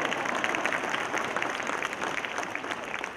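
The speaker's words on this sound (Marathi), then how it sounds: "महिला त्या टाळ्या वाजवायला लागल्या" Women in a packed outdoor audience applaud. A dense, continuous patter of many hands clapping carries steadily throughout, with a faint crowd murmur underneath.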